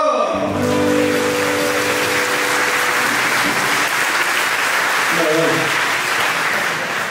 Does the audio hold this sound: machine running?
no